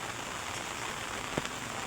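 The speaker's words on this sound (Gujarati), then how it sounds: "વરસાદ ચાલુ છે ધીમો ધીમો ધીમો ધીમો." Light rain falls outdoors as a soft, even hiss of drops, faint and continuous with one brief louder patter.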